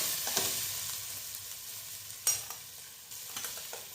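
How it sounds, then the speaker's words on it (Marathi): Sabudana khichdi with salt being sautéed in a pan, a steady close sizzle with scraping stirring strokes and a few sharper clinks of the spatula against the pan, no voices. "मीठ टाकून घ्यायचं थोडं. छान परतून घ्यायचं."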